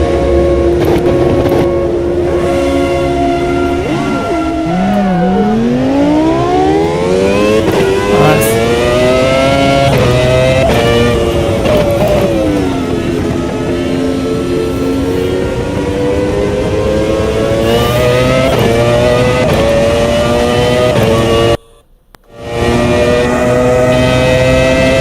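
A race car engine in the Automobilista 2 / Assetto Corsa sim racing games, stuck in fifth gear, drones loudly and continuously, its pitch sweeping up and down with throttle and briefly cutting out near the end.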